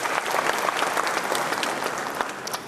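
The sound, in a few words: audience applause for a Supreme Court justice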